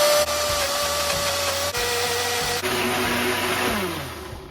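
A kitchen blender grinds coriander leaves, green chillies and salt into chutney with a continuous loud motor whine that shifts pitch a few times as the load changes, then eases slightly at the end.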